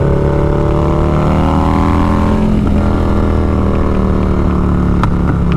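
A 150hp Harley-Davidson cruiser with a 131 cubic inch engine, riding at speed. A loud, steady, deep engine drone with shifting harmonic tones rises and falls slightly as it goes, with wind rush over it.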